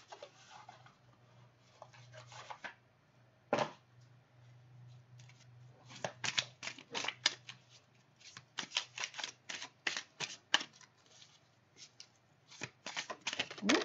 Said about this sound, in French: Je vais quand même sortir une carte d'Osho avec la sagesse.